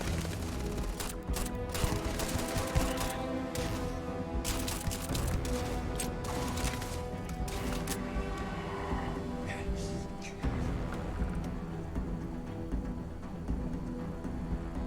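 Sustained gunfire in the space game Starfield, a dense fusillade of rapid shots with booms and crashes layered over a loud game soundtrack, continuous for the whole stretch.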